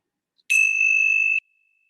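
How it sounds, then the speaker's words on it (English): A single bell rung once to open a relaxation session, a clear sustained ding with a bright ringing tone lasting about a second before it cuts off, near and alone. "let's begin our time together with the ringing of the bells"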